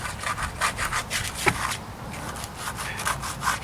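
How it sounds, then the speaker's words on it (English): Plastic scraper rasping repeatedly across a marble headstone from 1884, close rhythmic back-and-forth scraping strokes with no voices. "And then you just use a plastic scraper."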